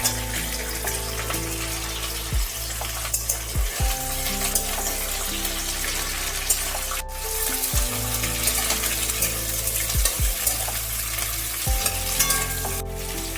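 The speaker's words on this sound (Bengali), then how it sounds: "আলু আর ডাঁটাটা ভালোভাবে তেলের মধ্যে ভেজে নিতে হবে" Red amaranth stems and potato pieces frying in hot oil, with a steady loud sizzle and periodic clanks and scrapes of a spatula stirring the pan, close up.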